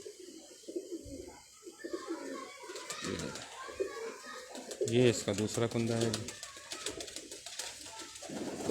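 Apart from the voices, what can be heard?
pigeons cooing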